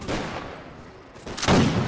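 Defenders fire guns during a siege battle in the video game With Fire & Sword: a low rumbling background gives way to a loud, sharp burst of gunfire near the end.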